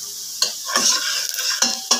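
Onions frying in a pot as they start to brown, with a steady sizzle of hot oil broken by a few close scraping strokes of a spoon stirring, moderately loud and without talk.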